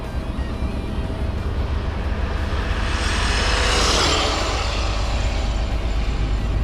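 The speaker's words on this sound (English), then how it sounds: "Full throttle, full throttle. And do one more pass each way." A 12S Arrma Mega Kraton XL, a 41-pound RC car, roars past at full throttle: a steady, loud high-pitched whine that rises and swells as it nears, then eases as it pulls away, with no talking.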